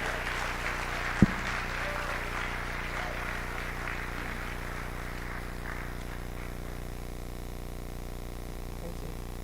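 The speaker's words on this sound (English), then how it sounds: "Please keep clapping" Applause from the audience at a medical schools psychiatry debate competition, a steady wash of clapping heard from a distance in a hall, with one sharp knock near the start and the clapping gradually thinning toward the end.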